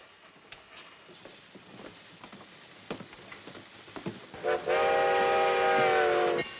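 A train rumbles and clatters nearby, then a loud, sustained steam whistle blasts for about two seconds near the end.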